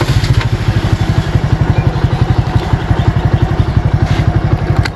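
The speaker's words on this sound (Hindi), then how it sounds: "मोटरसाइकिल को बंद करेंगे और आहिस्ता आहिस्ता नीचे उतरेंगे।" A motorcycle engine idles steadily nearby on a rural farm homestead, with a loud, even, throbbing putter and slight mechanical clatter running throughout with no voices.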